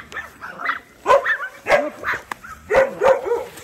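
Big dogs on a farm in Jamaica bark repeatedly in short, loud, close bursts with brief gaps between them, and no one talks.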